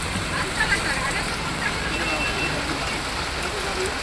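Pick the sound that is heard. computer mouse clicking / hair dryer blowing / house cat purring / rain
rain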